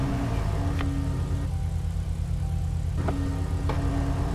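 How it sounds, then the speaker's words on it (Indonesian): A Vapid car's engine idles steadily in GTA V, a low constant rumble with a faint hum above it. Brief clicks and tonal blips break in at a few points. "Nanti mesin bunyi mesinnya keren banget, cuy."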